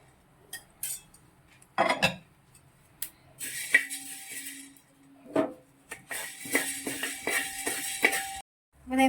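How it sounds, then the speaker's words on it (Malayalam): Coriander seeds dry-roasting in a pan for homemade sambar powder, with intermittent light clinks and scraping rattles as the seeds are stirred, moderately close with pauses between bursts. "ഇതിങ്ങനെ പൊട്ടുമ്പോൾ ഇങ്ങനെ ഒരു കിലുകില് സ്വരം കൂടുതൽ കേൾക്കുമ്പോൾ നമ്മളിത് എടുത്തോണം"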